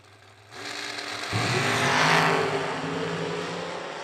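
Drag race cars at an end-of-year custom drag racing event launch from the start line, engines roaring up loud and close with a rising, sustained howl that stays strong to the end.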